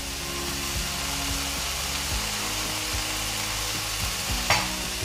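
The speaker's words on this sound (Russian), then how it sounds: "Не забываем помешивать чуть-чуть лапшу, чтобы она не слиплась." Buckwheat noodles with vegetables and mushrooms stirred in a frying pan, a steady close sizzle with scraping strokes of a utensil and a brief clatter near the end.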